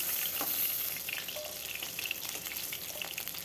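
Close-up frying of tangra fish in mustard oil in a kadai, with a bright spattering sizzle and a few light utensil clicks and stirring touches over the hiss.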